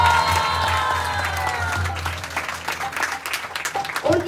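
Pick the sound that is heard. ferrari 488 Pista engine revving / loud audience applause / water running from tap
loud audience applause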